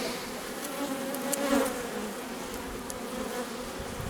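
Honey bees hum in a dense, steady drone from a mini-hive being opened by a beekeeper, the buzzing continuous and close with a few louder swells as individual bees pass near.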